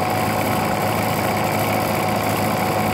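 An engine turns over steadily at about 100 RPM during an ignition advance and dwell check, a constant low droning run, close and even, with no voices.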